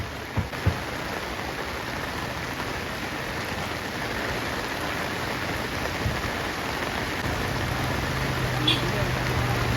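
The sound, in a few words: heavy rain falling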